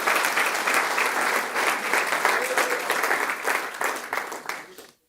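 A church congregation gives strong applause during a sermon, dense continuous clapping with voices underneath that swells and then fades out near the end.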